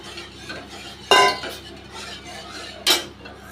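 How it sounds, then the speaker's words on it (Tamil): A spoon stirs pearl millet porridge (kambu koozh) in a pot over a low flame, with two sharp clinks of the utensil against the rim standing out over a quiet background of soft scraping. "போட்டுட்டு இதை கைவிடாமல் கலர வேண்டியதுதான்."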